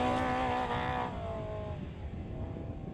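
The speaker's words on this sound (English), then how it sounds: "Car sounds great." Off-road race car in UTV and Class 10 qualifying at a Baja race, engine note climbing then falling away as it passes, a strong tonal roar that fades to a distant hum.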